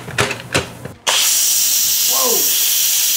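A pressure cooker lets out a loud, sudden, steady hiss of steam that continues to the end. Someone talks briefly just before it starts.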